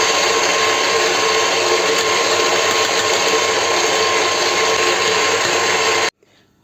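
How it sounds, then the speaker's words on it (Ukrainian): Steady, loud electric mixer whirring continuously as it whips butter for a cream filling, then cutting off abruptly near the end. "Збиваємо масло."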